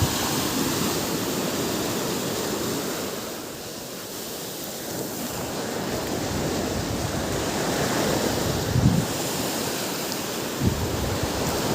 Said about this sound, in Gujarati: આ દરિયા કિનારો છે આખો